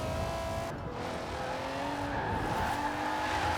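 Underpowered car in Forza Horizon 4 drifting sideways, continuous engine roar with shifting revs and tire squeal, steady and loud with no talk.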